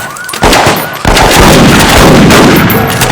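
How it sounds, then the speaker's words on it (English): Gunfire in a TV crime drama shootout, including shotgun blasts, loud sharp cracks and booms that pile into a dense, continuous barrage. "We got a full-on gun battle now"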